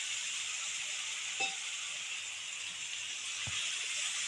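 Ginger-garlic paste with chili and cumin powders sizzles in hot oil for a Bengali prawn malai curry: a steady, even frying hiss with one brief clink and a soft knock partway through, and no voices.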